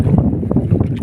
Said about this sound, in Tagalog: Ang likot kasi ng hangin.